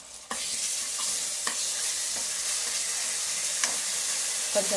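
Onions fry in a pan for chicken gravy, giving a loud, steady close-up sizzle. A few sharp scrapes and clinks of stirring sound throughout.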